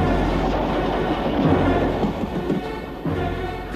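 A train rolls toward a bridge with a steady, loud, close rumble and a rhythmic wheel clatter underneath, with no voices.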